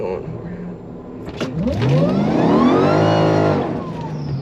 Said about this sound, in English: 1 little burnout.